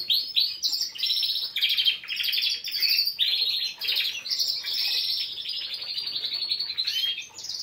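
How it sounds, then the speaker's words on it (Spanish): Young songbirds sing in a steady stream of high, thin chirps and warbles, unpolished and uneven, close by and continuous with no pauses. "Los pajarillos ahora son nuevos y pues tiran las notas como pueden."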